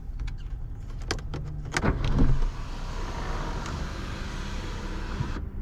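A 2015 Acura RDX sunroof motor whirs steadily as the glass tilts open inside the cabin, after a few sharp clicks from the button and a brief louder swell, ending in a soft stop.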